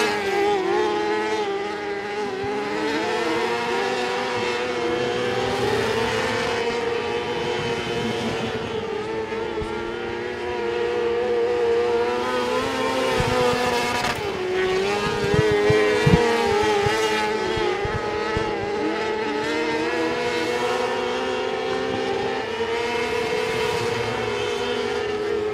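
Open wheel 600 sprint cars roar steadily around the Sabine Speedway oval during a heat race, a continuous loud blend of high-revving engines holding for the whole stretch, with no speech.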